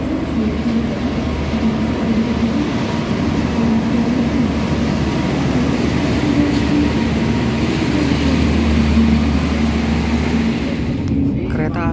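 The Ranggajati passenger train departs Kroya station with a steady, loud rumble of rolling wheels and machinery, continuous throughout, while a voice talks over the noise.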